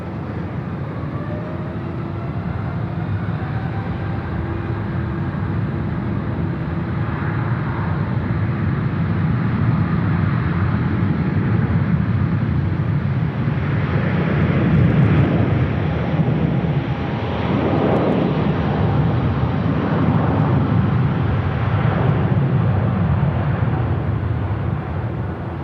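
A Qantas A321XLR airliner taking off at Sydney Airport, a sustained, broad engine roar that stays loud and steady throughout, mixed with wind buffeting on the microphone.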